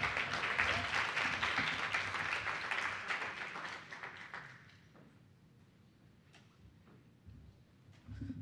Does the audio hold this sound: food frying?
no